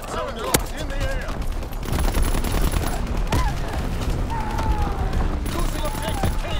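Artillery and heavy gunfire in a war video game rumble steadily throughout, with sharp blasts and continuous explosive booms layered under in-game radio voices.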